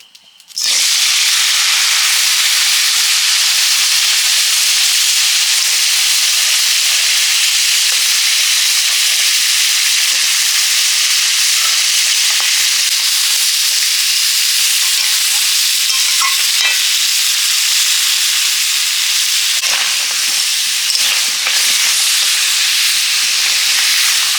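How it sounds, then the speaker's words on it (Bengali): Crabs fry together in a pan for a spicy crab curry, giving a loud, continuous sizzle with occasional scraping as they are stirred, and no voices. "কাঁকড়ার ঘন্ট আর কাঁকড়ার ঝালের জন্য সব কাঁকড়াগুলো একসঙ্গে ভেজে নিচ্ছি"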